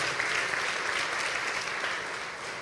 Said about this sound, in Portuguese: dê uma forte salva de palmas